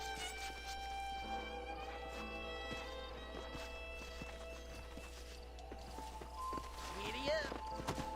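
Horse hooves clip-clopping at a riding pace in Red Dead Redemption, a steady rhythmic beat with some whinnying, set against a sustained musical drone while a man urges the horse on.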